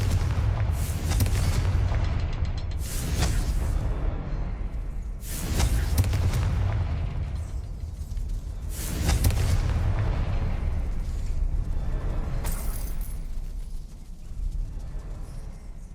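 Several heavy magical blasts from the Confringo fire spell in Hogwarts Legacy, four big booming bursts a few seconds apart, each with a crackling, rumbling tail, all loud and close, with no speech.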